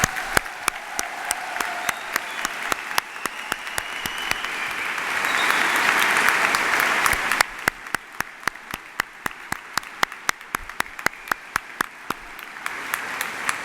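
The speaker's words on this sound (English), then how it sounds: "giving Brock's graduating class of 2017 a warm round of applause and congratulations" A convocation audience applauds a graduating education class; a broad crowd roar of clapping swells in the middle, then thins into a sparse, rhythmic clapping pattern with distinct sharp claps toward the end.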